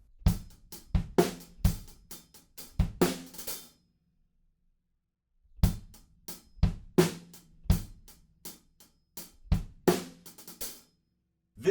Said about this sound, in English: there's one little fill that sticks out to me, and it's just a triplety little thing on the hi-hats